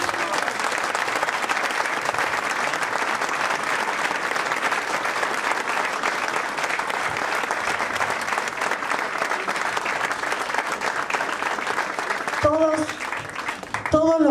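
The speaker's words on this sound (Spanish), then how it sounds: "¡Lo pueden aplaudir!" A seated audience applauds steadily and loudly at a political list presentation, sustained clapping for about twelve seconds before it thins out and a voice begins speaking near the end.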